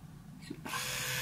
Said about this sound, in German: Also es ist eine Kinderzahnbürste von Oral-B.